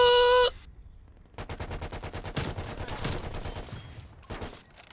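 Rapid automatic gunfire in a shooter video game, bursts of dense rattling shots close and loud after a brief tonal chime at the start, tapering into scattered shots.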